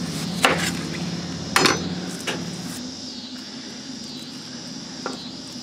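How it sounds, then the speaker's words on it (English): A knife skinning and cutting an onion on a board while making hot sauce at home: a few sharp knocks and taps, strongest in the first two seconds, then quieter scraping, close and alone. "Okay, so I'm gonna just skin the onion. And I'm just gonna cut it like this for now"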